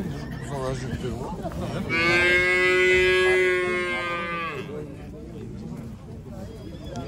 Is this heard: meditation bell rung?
no